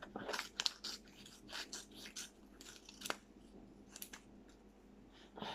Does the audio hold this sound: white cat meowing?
no